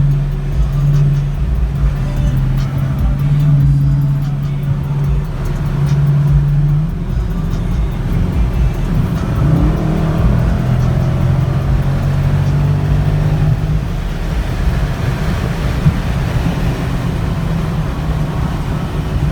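A Dodge Charger Scat Pack with the 392 V8, driven in track mode on the road, gives a loud, close, continuous engine drone with several rising pulls and steady cruising rumble throughout.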